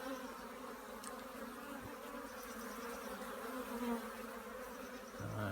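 A dense hum of many honeybees fills an opened hive during inspection, constant and fairly quiet, with a faint knock or two in the background.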